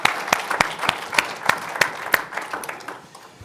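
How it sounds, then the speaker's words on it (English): An audience at an economics research centre event applauds, with distinct sharp claps standing out in a loose rhythm over a softer spread of hand clapping that thins toward the end. "And an applause for everybody here."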